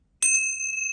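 A single bell rings out with a sharp, bright ping that rings on as a clear sustained tone, close and alone in silence.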